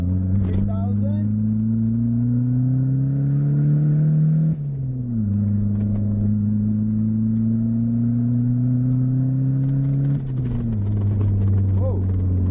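A turbocharged Mitsubishi Eclipse pulls hard in second gear from about 3,000 RPM, its engine note rising loudly and steadily, dropping briefly at two shifts and climbing again, with voices talking over the roar.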